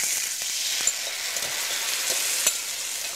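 Duck breast (magret) sizzles steadily in a pan over very low heat, a continuous bright crackle with occasional sharper pops, close and alone with no voices.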